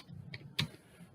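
Keys tap on a computer keyboard, a couple of quiet, separate clicks in a short burst with no talking.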